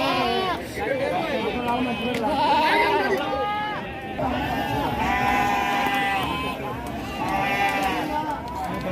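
Sheep and goats bleat repeatedly at a busy rural livestock market in Rajarampalli, their wavering calls overlapping close by while people chatter in the background.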